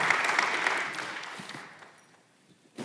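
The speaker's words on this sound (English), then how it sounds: "Let's give a round of applause to our next group of panelists" Applause from a community-forum audience at a gun-violence panel, clapping loudly at first then thinning and fading out over about two seconds, followed by a brief sound at the end.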